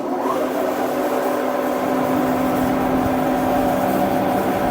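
A DoAll bandsaw's hydraulics and main drive running, a loud steady mechanical hum and drone with no pauses, close by and without talk.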